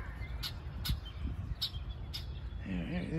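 Several short red-winged blackbird calls ring out at intervals over a steady low rumble, followed by a brief warbling burst near the end.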